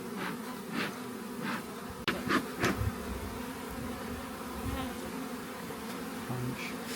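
Honey bees swarm around an opened backyard hive that has been smoked, a dense close-up droning hum with a few louder passes near the ear and no talking.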